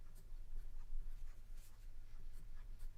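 White chalk drawn across black paper, scratchy strokes repeating at a steady unhurried pace over a low background hum, close and fairly quiet.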